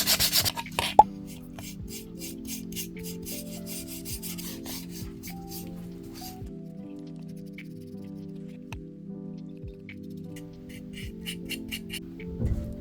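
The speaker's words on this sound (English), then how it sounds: "we're going to want to sand this down before we paint it" Sandpaper rubs over a miniature wooden bookcase kit in a quick, steady rasping rhythm of short strokes, close and fairly soft, with a couple of light knocks near the start.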